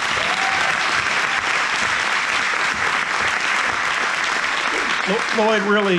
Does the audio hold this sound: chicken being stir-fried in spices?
no